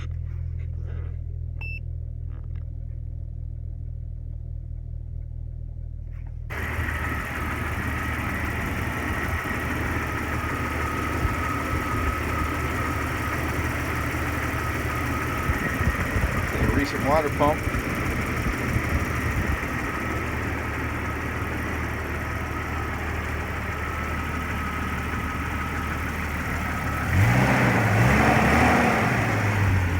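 A 1998 Jeep XJ engine idling smoothly after a throttle position sensor replacement, a steady close drone throughout, with a brief spoken comment and a louder rise near the end.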